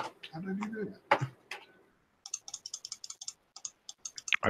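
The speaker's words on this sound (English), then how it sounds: "I hear a lot of clicking." Rapid computer mouse clicking during an online multiplayer game, a run of sharp, close, evenly spaced clicks following a stretch of speech.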